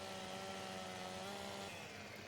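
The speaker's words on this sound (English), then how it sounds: "get the Stihl chainsaw. I really do like the Stihl brand, and especially this one here cuts well" Stihl chainsaw cutting a tree in Farming Simulator 17, a steady, buzzing engine drone at constant pitch, faint and continuous for the whole stretch with no talk.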